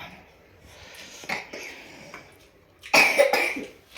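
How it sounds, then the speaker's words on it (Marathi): A couple of faint coughs early on, then a sharper, louder burst of coughing near the end, close by. "अरे बापरे खोकला आला"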